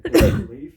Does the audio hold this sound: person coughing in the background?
yes